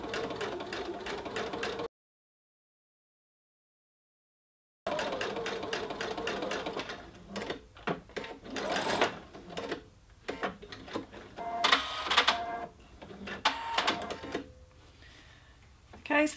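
A sewing machine stitches binding onto covered shoulder pads in bursts of rapid mechanical clatter, close and fairly quiet, pausing into silence briefly early on before resuming in uneven stop-start runs.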